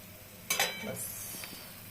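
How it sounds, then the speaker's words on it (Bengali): Oil in a kadai wok heats and sizzles with a brief stirring clatter at the start, then a steady faint hiss of frying, close by with no talk. "কড়াইতে তেল দিব"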